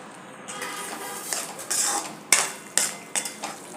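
A metal spoon stirs wet green peas and pan-fried potatoes together in a cooking pan, scraping steadily and then giving several sharp, close clinks against the metal.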